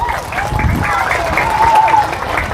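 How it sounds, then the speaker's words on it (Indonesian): Audience applause at a children's religious gathering in Indonesia, a short burst of clapping with voices and chatter mixed in. "Tepuk tangan dulu dong."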